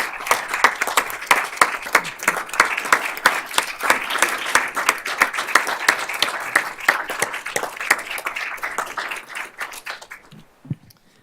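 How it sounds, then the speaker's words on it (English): An audience at a board of trustees meeting gives a sustained round of applause, a steady crackle of many hands clapping that fades out near the end. "Let's give them a round of applause."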